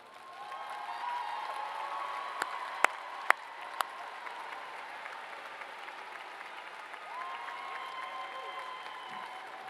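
Graduates at a summer commencement ceremony give a sustained round of applause, steady crowd clapping at moderate distance with a few sharp louder claps standing out early on.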